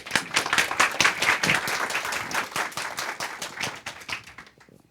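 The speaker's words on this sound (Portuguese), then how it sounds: "Palmas para ele." A small group in a class claps for a volunteer, with a lively burst of applause from nearby that gradually thins out and fades toward the end.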